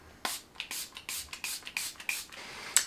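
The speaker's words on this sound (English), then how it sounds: "I'm going to set down with the Tear setting spray." Tear setting spray misted onto a face in a series of about eight short, close, hissing bursts with a quick rhythm, no talking.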